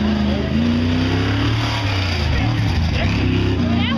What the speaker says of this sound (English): 72 Ford Bronco out of East Petersburg.